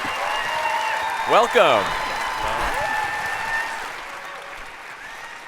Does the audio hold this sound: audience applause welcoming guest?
yes